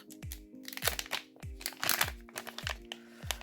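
Crinkly plastic packet of One Piece trading cards rustling and crunching in repeated bursts, close by, with faint low knocks between handling sounds.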